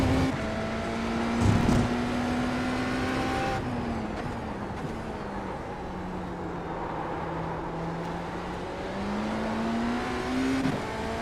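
GT3 race cars circling a track during the Marlin Memorial Cup, their engines droning steadily and swelling in pitch as they sweep past, with a steady mix of several cars throughout.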